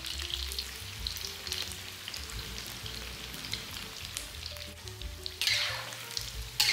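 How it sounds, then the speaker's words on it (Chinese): Battered tofu fries in hot oil over low heat, giving a steady, fairly soft sizzle that swells slightly near the end, with no voices. "现在我们可以把火调小，再把豆腐里面剩下的水分全部逼出来。"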